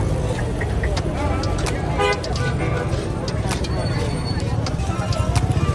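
Busy street traffic runs alongside a sheep market in Niamey, Niger: a constant low engine rumble with several short car horn toots cutting through. Voices chatter nearby.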